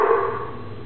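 A dog gives a single short bark or yip close by, tailing off quickly within a second.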